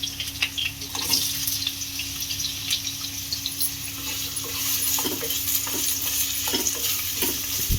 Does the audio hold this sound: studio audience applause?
no